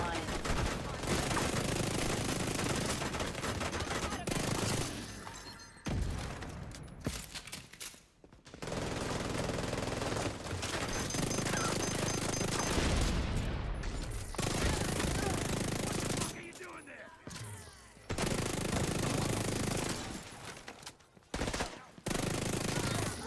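The Ouroboros weapon in a video game fires long, loud, continuous bursts, broken by several short gaps over the stretch, with game effects and voices faintly underneath.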